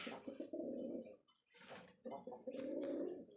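A male Rajshahi Giribaj pigeon coos softly and close by in two throaty, rolling bursts with a brief pause between them.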